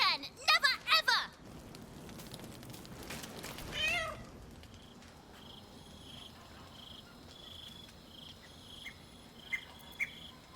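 A cat meows in the video game Baldur's Gate 3, with a quick run of several close, sharp meows at the start and one more later, followed by faint, high, chirping insect-like ambience.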